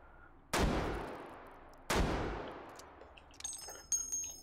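A .50 caliber rifle in the VR game Hot Dogs, Horseshoes & Hand Grenades fires two loud, sharp shots about a second and a half apart, each with a long decaying echo, followed by light metallic clinks of spent shells landing.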